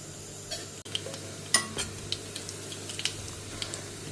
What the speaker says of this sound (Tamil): கடுகு வெந்தயம் போட்டுருக்கேன்